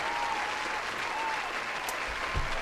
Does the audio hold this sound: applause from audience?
yes